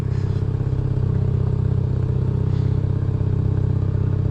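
A car engine idling steadily at low revs, a loud, close, continuous rumble with an even throb and no talk.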